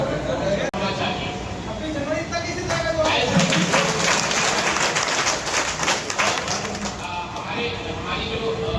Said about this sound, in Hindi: जाने कितनी तालियां बज रही हैं